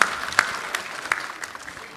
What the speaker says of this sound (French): Une bonne main d'applaudissements pour nos partenaires